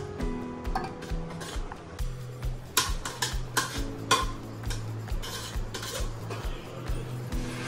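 A spoon scrapes and clinks against a metal pot while mustard powder is stirred into tamarind paste, with irregular knocks and rasps and a steady low hum underneath and no talking.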